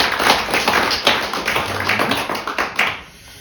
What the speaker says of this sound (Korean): 우리 아이들 향해서 한 번 더 우리 뜨거운 박수 좀 우리들.